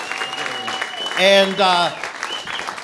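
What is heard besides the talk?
audience applause for Graham Parker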